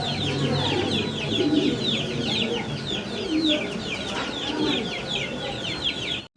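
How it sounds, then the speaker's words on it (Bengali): German Beauty Homer pigeons in blue barless coloring at a busy pigeon sale, cooing and calling in a dense, continuous chorus of repeated short calls over a steady low background murmur. "জার্মান বিউটি হোমা দেখতেছি আমরা ব্লু বার্লেস কালারের ভিতরে"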